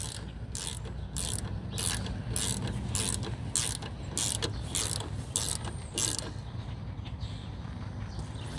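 A power wrench rattles in rapid repeated bursts, a steady series of sharp ratcheting pulses, while loosening brake caliper bolts on a car, fairly close and clear over low background hum.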